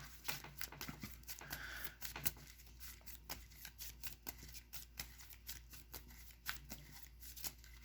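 Rapid riffling and snapping of an Amazement Stun card deck being shuffled, quiet and close, with repeated bursts of crisp flutters.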